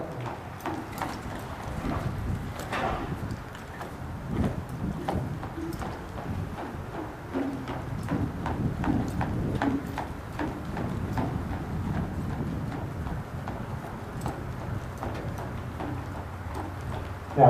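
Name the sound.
horse hooves clip-clopping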